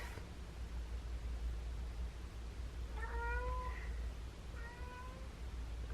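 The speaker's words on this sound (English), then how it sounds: "he's meowing at the door" A cat meows at a door twice in short, plaintive calls over a steady low hum and hiss, the second meow a little softer than the first.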